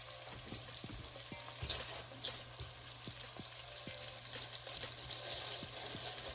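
Parboiled rice sizzles and fries in a pan with chorizo and cilantro, a soft continuous crackle with occasional stirring scrapes and clicks, fairly quiet and close.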